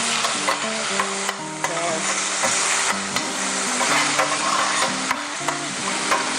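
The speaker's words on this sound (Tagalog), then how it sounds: "Saute this for about 2 to 3 minutes or until the onions are caramelized." Onion and garlic sautéing in a pan, a constant loud close sizzle with repeated spatula scrapes and clinks throughout, no voices.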